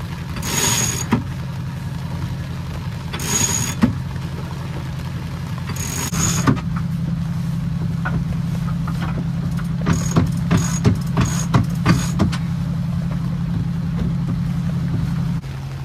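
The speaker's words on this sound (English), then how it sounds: "I'll stop the engine after that." A sailboat's engine runs as a steady low drone for about fifteen seconds, with scattered clicks and clanks of rigging and winch mechanisms over it, while the Genoa sail is being unfurled.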